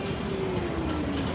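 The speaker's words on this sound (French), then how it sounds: "On va prendre le métro de Los Angeles." Los Angeles metro train running, a loud steady roar of wheels on rails with a high squeal gliding slowly downward over it, heard close from on board.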